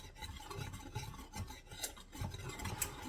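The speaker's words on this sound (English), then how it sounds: "I'm just gonna mix it up a little bit with this." Whole-food plant-based pumpkin muffin batter being stirred in a bowl, with soft, irregular scraping and rubbing strokes close by and faint clinks, quiet and with no talking.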